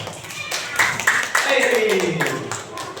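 A school class claps hands together in a classroom during a coding lesson, a short, moderately loud patter of claps mixed with children's voices talking over it.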